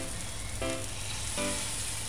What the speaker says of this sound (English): it's gonna start frying fast